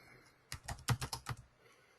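A quick burst of typing on a computer keyboard, about seven close keystrokes packed into under a second, set in a quiet room.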